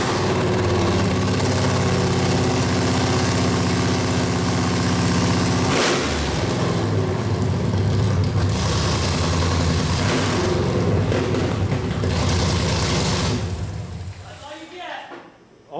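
A Hellcat V8 swapped into a Mazda MX-5 Miata runs loud and near, with a deep idle, then throttle blips and rough revving that fade out at the end, and a voice speaks over it.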